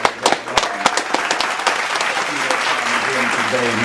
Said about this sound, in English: y'all make sure y'all give a round of applause to my guy, Morris Sally, man.